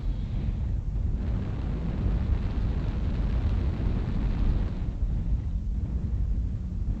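An airstrike in MechWarrior Online produces a continuous deep, rumbling roar of explosions, a dense low-heavy blast noise that stays loud and steady throughout.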